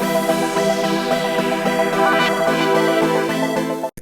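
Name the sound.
synth pop strings playing chords in GarageBand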